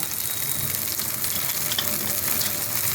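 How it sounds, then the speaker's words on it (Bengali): Mustard paste and water go into a hot frying pan, producing a dense, continuous sizzle and bubbling with stirring, loud and close, no voices. "এখন আমি এই সর্ষে বাটাটা দিয়ে দেবো জল দিয়ে দেবো"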